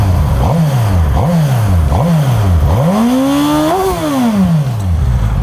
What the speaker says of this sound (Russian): и это звук джиксера.